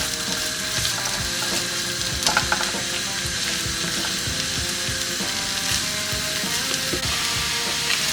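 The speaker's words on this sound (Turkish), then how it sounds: "İçine bir adet soğan ve iki diş sarımsak. hepsi güzel kavuruyoruz." Onion and garlic fry hard in hot oil in a pan, a loud continuous sizzle with scattered stirring scrapes and light clatter, no voices.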